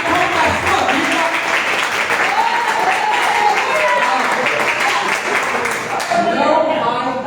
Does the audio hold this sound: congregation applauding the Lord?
yes